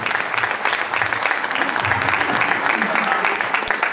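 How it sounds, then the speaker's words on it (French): An audience at a Téléthon magic show bursts into sustained, dense applause, loud and close throughout. "Steven, on l'applaudit."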